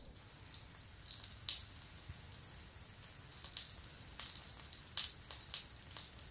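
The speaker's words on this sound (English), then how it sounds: "just listen to the sizzling of meat" Meat sizzles quietly in a homemade gyros machine built from a toaster and a microwave, a faint steady hiss broken by small pops and crackles scattered through the few seconds.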